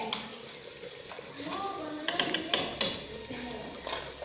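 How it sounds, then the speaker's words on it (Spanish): Fried rice with onion and tomato being stirred in a pan, with intermittent scraping and clinking of a utensil against the pan over a low sizzle, and a voice talking through it. "Ahí lo está meneando para que se revuelva la cebolla con el arroz"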